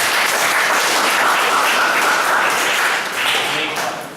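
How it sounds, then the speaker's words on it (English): An audience gives a team a round of applause, a dense, loud wash of clapping from many hands that holds steady and then begins to fade near the end. "Give them a clap, please."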